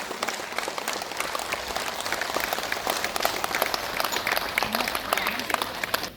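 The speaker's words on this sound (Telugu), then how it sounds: "మైత్రేయ బుద్ధ సుభాష్ పత్రిజీ గారి గట్టిగా చప్పట్లు." A theatre crowd gives sustained, loud applause for Maitreya Buddha Subhash Patriji, with a dense, continuous roar of many clapping hands lasting over six seconds and faint voices mixed in.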